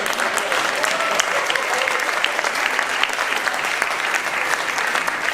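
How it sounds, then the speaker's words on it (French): An audience at the Simone Veil literary prize ceremony, part of a women writers' book fair, applauds steadily for several seconds, a dense and even clapping that fills the room with no speech over it. "Donc on peut les applaudir."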